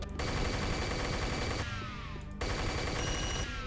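A minigun blazing in a remastered Unreal shooter, firing in a dense, continuous rattling stream that breaks off briefly and then resumes, loud and up close.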